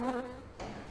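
A bee in a casual art video game gives a short, close buzzing tone that fades out within half a second, followed by a soft thud.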